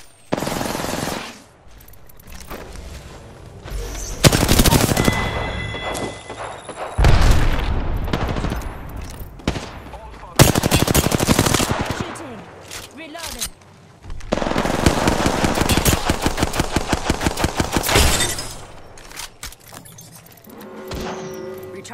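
Close, loud bursts of automatic gunfire in the video game Apex Legends come in several intermittent volleys separated by short quieter gaps, with a voice speaking between them.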